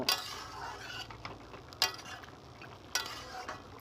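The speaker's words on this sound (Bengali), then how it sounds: "আগে থেকে ভেজে রাখা বড়িগুলো শাগে দেবো গুঁড়িগুলো দিয়ে ভালো করে নেড়ে চেড়ে নেব" Fried lentil dumplings being stirred into a radish greens curry in a pan, with a few sharp spoon clinks against the pan over a soft, steady scraping and faint background hiss.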